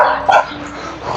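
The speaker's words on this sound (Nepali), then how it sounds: "कुकुरहरू चाहिँ यस्तो हुन्छ कि यहाँ भुक्न आइहाल्छ" A dog gives a single short bark, fairly close, against a steady background hum.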